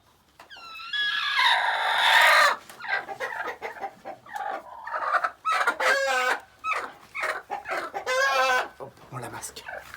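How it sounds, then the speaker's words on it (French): A hen clucks and squawks loudly up close during brooding, giving rising agitated calls and a series of choppy clucks, with people talking at times. "Et moi je prends la poule blanche."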